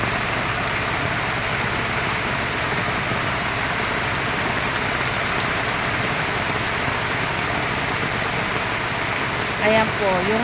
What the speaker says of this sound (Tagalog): Malakas po ng ulan.